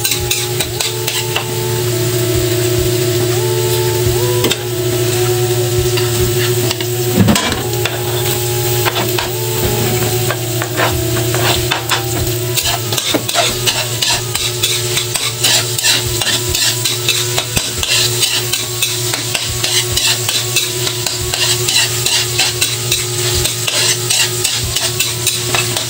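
Garlic and onion fry in melted butter in a pan while being stirred, giving a loud, continuous close sizzle with scraping utensil strokes over a steady low hum throughout.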